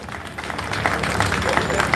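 Audience applause for the artists at a public event, a short stretch of scattered crowd clapping mixed with murmuring voices, moderately loud and fairly close.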